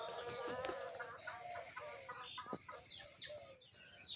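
Aseel chickens on a poultry farm, a faint scattering of short clucks and chirpy calls from several birds at a distance, with soft insect-like buzzing underneath and no talking.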